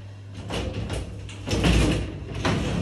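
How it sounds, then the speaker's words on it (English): Sliding shower cubicle doors being forced shut in a rented home: a rough scraping rumble with two heavier pushes and a final knock, close and fairly loud, no talking. "It's quite hard to close the shower doors"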